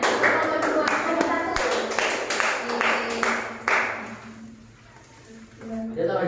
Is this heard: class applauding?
yes